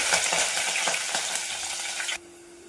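Green chilies with cinnamon stick, cloves and cardamom frying in hot oil for a Telangana goat intestine sambar, a steady close crackling sizzle with stirring scrapes that suddenly drops away to a faint low hum near the end.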